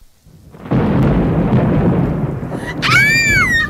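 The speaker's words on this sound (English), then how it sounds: "he heard the storm coming up again" A radio-drama thunderstorm: a heavy roll of thunder swells into a loud, sustained rumble with rain-like hiss, close and dense, and a high wailing tone near the end.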